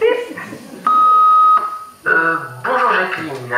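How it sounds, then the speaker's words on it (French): An answering machine sounds a single steady electronic beep lasting under a second, clear and loud, with speech before and after it. "Si vous voulez attraper le bip bip qui va passer, vous devez me laisser un message juste après son passage."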